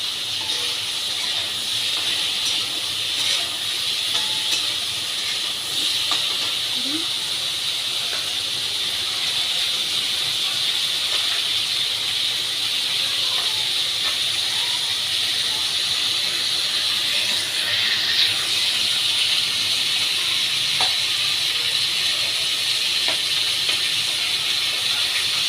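Fish mixed with turmeric frying in hot oil, a continuous even hiss and sizzle that holds steady throughout with no speech over it.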